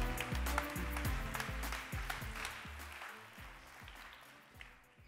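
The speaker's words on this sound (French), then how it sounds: "Applaudissements pour Thomas Solignac." Applause at a festival talk, a crowd clapping for a speaker on artificial intelligence, fairly faint and distant, tapering off toward the end as low electronic music tones pulse underneath.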